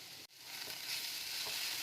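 Capsicum and chili sauce stirred together in a hot frying pan with chicken and carrot for spring roll filling, producing a loud, steady sizzle after a brief cut, with faint stirring scrapes.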